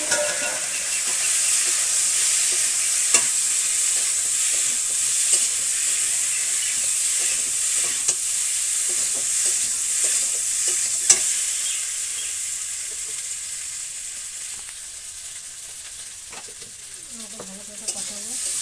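Fish curry masala with potato and taro stems, cooked with katla fish in a village kitchen, sizzles steadily in the pan while a spoon stirs and scrapes through it with scattered clicks, close and continuous, fading slightly near the end.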